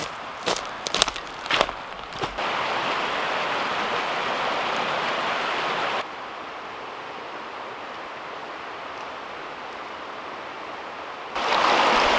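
A steady broadband wash of flowing creek water fills the scene beside a wooded base camp, with a few crunching footsteps at the start and the rushing level dropping and swelling as the listener moves.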